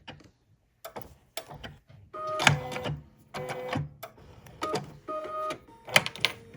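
A sewing machine over-sews the hem of a pair of jeans in several short bursts of quick stitching, separated by brief pauses, close and fairly quiet, with no talk.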